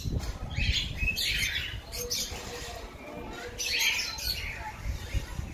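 Pet birds in a home aviary chirp and tweet in busy overlapping bursts, close and fairly loud, with faint mechanical noise in the background.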